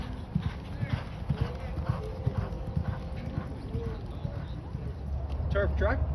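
Thoroughbred horses walk with steady clip-clopping hooves at a Louisville training track, against a busy background of voices and outdoor noise.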